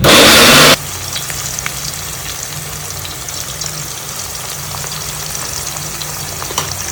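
Coconut, ginger, garlic and coriander paste roasting in a pan for a chana dal bhaji curry, giving a steady close sizzle with faint scraping, after a brief louder burst at the start.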